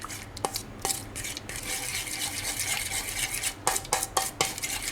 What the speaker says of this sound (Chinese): 舀点鸡汤， 把花生酱化开